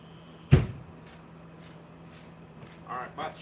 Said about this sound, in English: We'll go close the door.